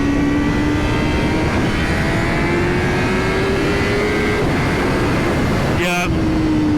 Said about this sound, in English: Yeah, you give it some, get it revving.